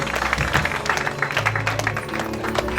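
Church congregation clapping and cheering in praise of God, a steady dense wash of applause with scattered voices filling the whole moment.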